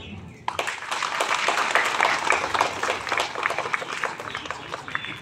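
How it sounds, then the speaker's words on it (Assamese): Parents at a school's annual school-week inauguration break into loud, dense clapping that starts abruptly and holds steady, a crowd of hands close and sustained. "মই অভিভাৱকসকলৰ পৰা খুব জোৰেৰে এটা হাত তালিৰে"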